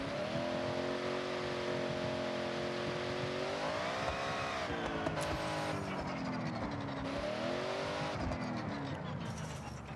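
A car in the Forza Horizon 6 racing game, likely a Miata, holds a loud steady engine drone that dips and surges as it slides through a handbrake turn, with brief tire scrubbing near the end and no talk over it.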